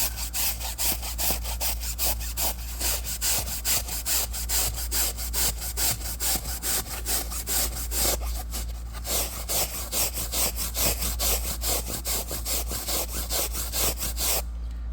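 A stiff-bristled brush scrubbing a car seat in rapid back-and-forth strokes, a steady close rasping swish that repeats continuously with only a short pause.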